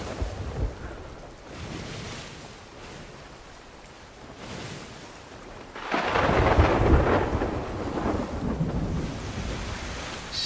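A storm at sea in the game Sea of Thieves, with rumbling thunder, steady rain, wind and crashing waves that swell sharply louder midway through.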